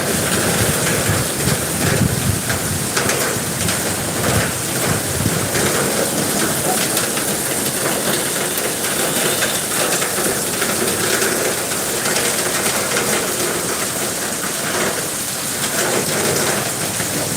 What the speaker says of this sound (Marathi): पाऊस आलेला आहे पाऊस